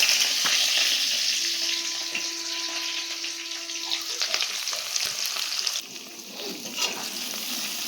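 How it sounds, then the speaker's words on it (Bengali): Chopped onions hit hot oil tempered with whole spices in a pan where potatoes were just fried, giving a loud, steady sizzle with occasional clinks and stirring scrapes, settling slightly quieter near the end. "তারপরে এখানে আলুগুলো তুলে নিয়ে মশলা ফোড়ন দিয়ে দিয়েছি, তাতে দিচ্ছি এবার পেঁয়াজ কুচিগুলো।"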